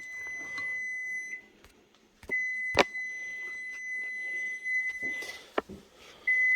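An appliance gives a series of high, steady electronic beeps with short pauses, fairly close in a quiet room with faint clatter.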